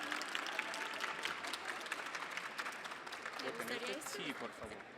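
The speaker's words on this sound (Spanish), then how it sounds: "Un aplauso, por favor." Audience applause fills a lecture hall at a perioperative nursing talk, a dense steady wash of clapping throughout with a voice speaking over it near the end.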